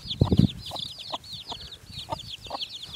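A mother hen clucks in a quick, uneven series of close, short clucks, with softer chirping calls running in the background.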